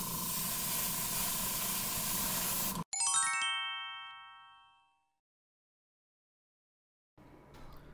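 A spray of paint hissing steadily and close for a few seconds while a model kit is coated blue grey, then a bright metallic ding that rings out and fades into silence before faint hiss returns.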